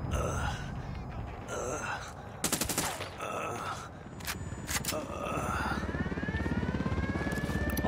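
A helicopter in Ghost Recon Wildlands drones through a tense firefight, mixed with bursts of gunfire, gasps and shouted voices, and a rising whine grows louder toward the end.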